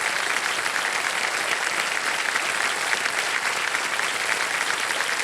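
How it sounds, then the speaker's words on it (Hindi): Sustained, dense applause from a studio audience on a Hindi television game show, steady and loud for the whole stretch with no voices breaking through. "एलना जी के लिए जोरदार तालियां"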